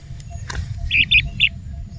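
Two baby birds, green like parakeets, chirp from inside a hole in the ground, giving three short, high, close squeaks over low rumbling background noise.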